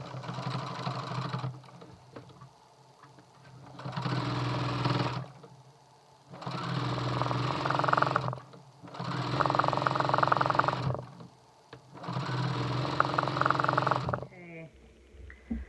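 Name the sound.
sewing machine stitching quilt binding at a mitered corner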